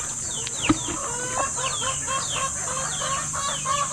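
Australorp chickens clucking at feeding time on a farm, a flock of close, overlapping soft clucks and short calls running steadily throughout with no talk.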